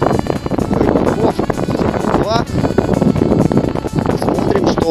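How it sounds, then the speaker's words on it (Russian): Gusty wind on frozen Lake Irtyash roars and thumps against the microphone, loud and close, while a person talks through it. "Ветрище сдует"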